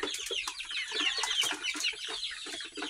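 A flock of Brahma and brown breeder chickens and chicks clucking and peeping continuously, busy overlapping calls close by with no talking.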